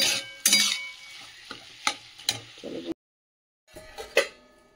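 Bottle gourd curry with shrimp is stirred in a pan, a spatula scraping and clinking in short strokes over a gentle sizzle, briefly cutting to silence before more scraping resumes.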